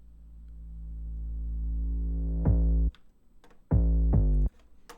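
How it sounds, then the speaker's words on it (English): A reversed 808 bass swells up gradually and snaps into a hard 808 hit, followed by a further booming 808 note, all deep, loud sub-bass tones in a beat with no voices. "I did use a little reversed 808 leading into the first 808 hit here"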